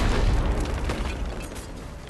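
A loud, booming in-game explosion in the video game Mass Effect 3, a heavy low rumble that hits at once and slowly tails off over about two seconds, with no talk over it.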